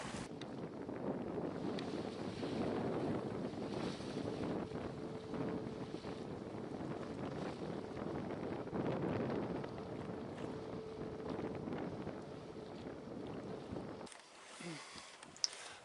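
A single-handed sailboat sails close-hauled, and steady wind rushes over the microphone along with the wash of water on the hull. The whole stretch is continuous and moderately loud, and it drops off near the end.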